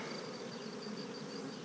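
Honey bees drone in a steady, dense buzz close by as a hive is opened for inspection, with capped honey, capped brood and drones on the frames. The hum runs unbroken and fairly loud, with no voices over it.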